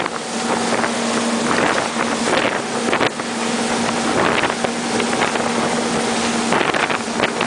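A 2015 Evinrude 115 E-TEC outboard drives a 2004 Victor 4.85 RIB at 3500 rpm. It gives a steady, loud engine drone with rushing water and gusting wind across the microphone, and there is no talk.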